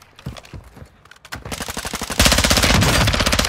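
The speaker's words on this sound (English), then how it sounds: "There's a different guy shooting at me." Gunfire in the shooter DMZ: scattered single shots at first, building into loud, rapid automatic bursts that grow denser and closer toward the end.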